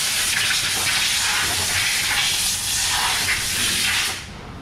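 Compressed air blasts steadily onto a supercharger rotor during assembly of a VMP Gen3R, a loud continuous hiss lasting about four seconds before cutting off abruptly.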